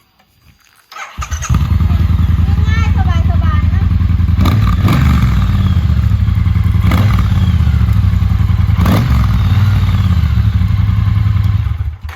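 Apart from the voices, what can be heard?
Triumph Bobber Black motorcycle with stock exhaust running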